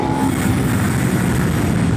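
A Ducati Multistrada V2 with its V-twin engine and stock exhaust drones loudly and steadily, a thick, close rumble with no pauses or voices.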